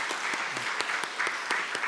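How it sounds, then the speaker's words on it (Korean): Applause from a church congregation at a Sunday worship service, welcoming a newly registered member; steady, fairly light clapping from a modest crowd, continuous and even throughout. "박수로 환영해 주시기 바랍니다."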